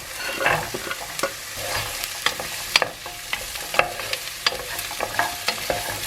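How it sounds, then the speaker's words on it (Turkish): Carrots sizzle and crackle in a hot pot of potato soup, with sharp clatters of a utensil stirring at irregular intervals, fairly close and steady. "Şimdi havuçları da koyuyorum."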